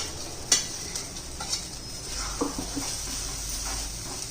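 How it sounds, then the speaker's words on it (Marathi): Chole masala with yogurt is sautéed and stirred in a pan, giving a soft low sizzle with a few light clinks of the spoon against the metal at a moderate distance. "चांगलं दोन चार मिनटं आपण हे परतून घेणार आहोत"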